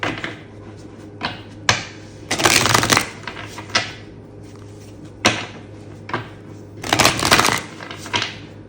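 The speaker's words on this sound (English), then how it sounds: "Do a good hard shuffle." Tarot cards shuffled hard by hand, with sharp riffling bursts and flicks repeating in uneven clusters, close and loud, with no voices.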